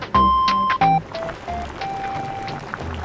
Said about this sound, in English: Whistles the kettle.